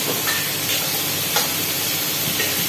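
Onions sautéing in a hot pan at a home Korean barbecue gathering, a steady loud sizzle and hiss with a few faint clinks of stirring, no voices.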